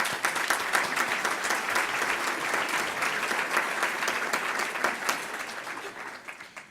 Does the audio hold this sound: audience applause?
yes